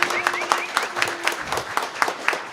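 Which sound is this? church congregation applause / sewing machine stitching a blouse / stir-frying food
church congregation applause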